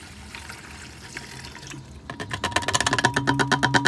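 Cleaner spraying into the particulate filter of a Sprinter van, with a quiet lead-in followed by a rapid, loud series of rhythmic hissing spray bursts that grow stronger toward the end, close up and with no talking.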